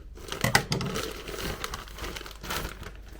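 A parcel from a clothing haul being opened, with close, irregular plastic crinkling and rustling, a few sharper crackles early on, and no voices.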